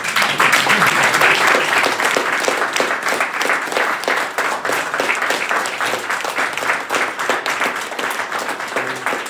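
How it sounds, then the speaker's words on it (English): Audience at an international conference breaks into a big round of loud, dense applause with rapid overlapping claps that hold steady and taper slightly toward the end, with no voices over it. "a big round of applause"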